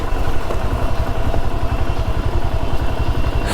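A motorcycle engine runs loud and close while being ridden on a road trip in Karnataka, with a steady pulsing drone, rattly clatter and wind rush and no talk.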